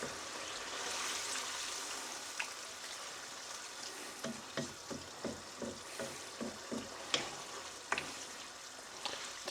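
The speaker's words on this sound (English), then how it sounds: "Our stock's going in there. Make sure that's nicely combined. Lovely. Give that a stir around." Bolognese sauce with stock just added is stirred around in a pan, a steady sizzle and bubbling bed with a run of evenly spaced spoon scrapes and knocks against the pan in the second half; no talking.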